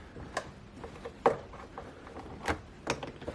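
Plastic clips pop loose as a BMW E38 door panel is pried off for window regulator work. A handful of sharp, close clicks and snaps are scattered irregularly across a quiet background.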